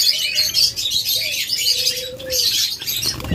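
Caged birds offered for sale in pairs chirp densely and continuously nearby, a busy high twittering with a few longer whistled notes underneath.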